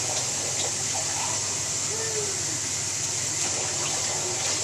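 Water is poured from a cup into a pot holding two cups of rice, three measures in turn, for a steady gushing splash that runs loud and close under faint kitchen background.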